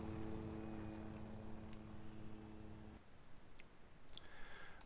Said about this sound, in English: And the chopper is now flying off to its next waypoint.